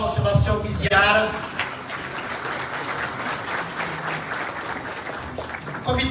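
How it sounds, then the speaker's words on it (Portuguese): An audience at a Volkswagen do Brasil anniversary ceremony in São Bernardo gives a sustained round of applause, dense even clapping filling the room after a short spoken announcement, with another voice briefly returning at the very end. "Uma salva de palmas, Sebastião Miziara."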